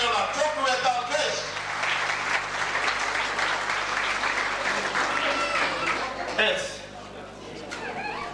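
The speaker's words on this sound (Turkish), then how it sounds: "çok kuvvetli alkış" Sustained, loud applause from an audience at a Kutlu Doğum week celebration held by the BOY-DER and ASİLDER associations in Turkey. It runs steadily throughout with voices mixed in and eases slightly near the end.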